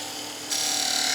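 A skew chisel with its bevel rubbing slices a bead on spinning wood on a lathe, giving a steady hiss that suddenly grows louder and brighter midway as the cut bites deeper.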